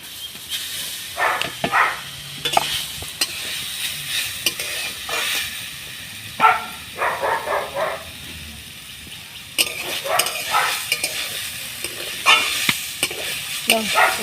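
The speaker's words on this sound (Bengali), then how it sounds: "নারকেল ছাইটা এবার মেরে নেবো তার জন্য অন্য কড়া বসিয়ে দিয়েছি" Grated coconut stir-fried in a wok for Bengali coconut pitha, a spatula scraping and stirring in bursts of rhythmic scratching over a low sizzle, close and moderately loud with no talk.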